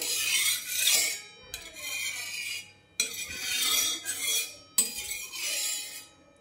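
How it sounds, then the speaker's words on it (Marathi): A metal utensil scrapes and spreads oil across a hot griddle (tava) before Khandeshi thalipeeth is cooked, giving three close, sustained scraping strokes separated by short pauses, with no talking. "मी तेल थोडं पसरून घेते असं।"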